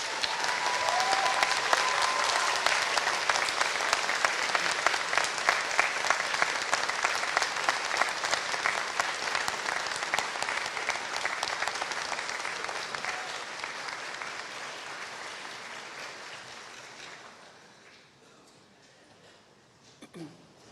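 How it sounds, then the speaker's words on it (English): Sustained applause from a large audience at a Bath Spa University graduation ceremony fills the room, dense clapping holding steady before thinning and fading out near the end. "give them a really big round of applause"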